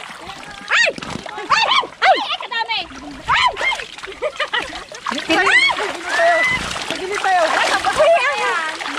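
Tilapia thrashing and splashing in fishpond water during a harvest, with repeated sloshing bursts close by as several people talk and shout over it.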